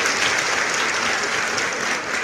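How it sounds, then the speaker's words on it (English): A crowd at a live Miami Hurricanes fan event gives a coach a round of applause, heard as a full, even wash of many hands clapping throughout with no speech on top. "I got to give him a round of applause too."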